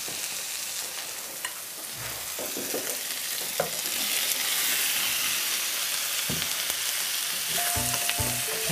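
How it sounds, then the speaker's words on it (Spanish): Steady sizzling of beef frying in a pan for lomito strogonoff, with scraping stirs and occasional utensil knocks over the constant hiss. "Empezamos a revolver, a darle gusto a la carne con todos estos deliciosos sabores"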